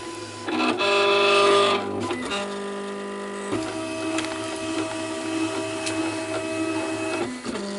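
An electronic cutting machine runs a Foil Quill on gold foil, giving a loud motorized whir and then a steady electric hum with tonal whine and brief shifts in pitch, close up with no talk.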